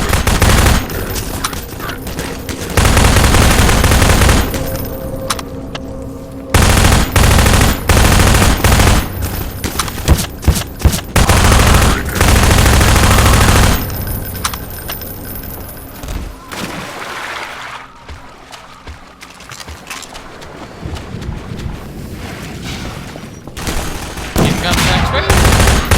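Submachine gun fire in the first-person shooter Minerva: Metastasis, loud rapid bursts in several long stretches broken by short pauses, with scattered single shots and a quieter stretch late on.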